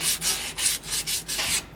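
Rear brake parts scrubbed by hand, a close, loud rhythmic rasping in about six even back-and-forth strokes, with no voices.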